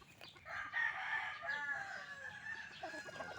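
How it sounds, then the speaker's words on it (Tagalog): Chickens on a farm crow and cluck close by, a rooster's drawn-out crow standing over steady clucking from the flock throughout, with no talk. "Nagala mga manok dito bay"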